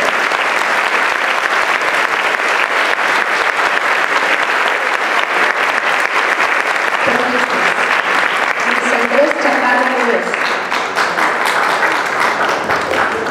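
Loud, continuous audience applause for students at a school ceremony, a thick wash of clapping with voices rising briefly beneath it near the end.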